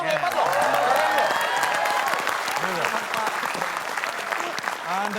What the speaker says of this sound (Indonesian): Tepuk tangan dong, hebat loh.